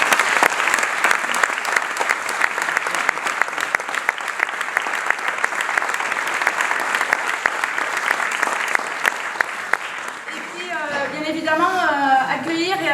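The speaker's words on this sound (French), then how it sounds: "Donc je pense qu'on peut les applaudir." A French audience at a stage show applauds healthcare workers with sustained, loud clapping for most of the stretch, then a voice starts speaking over the tail of the applause.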